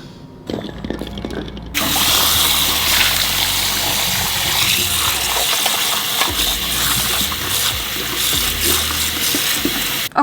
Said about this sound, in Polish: to zalewamy je zimną wodą, żeby przerwać gotowanie